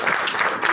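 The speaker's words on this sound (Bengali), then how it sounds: "তার জন্য একটা হাততালি দিই আমরা।" Audience applause at a company presentation, a short steady burst of dense clapping filling the room, fairly loud and without voices.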